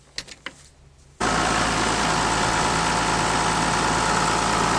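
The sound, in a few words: farm machine engine left idling before an oil change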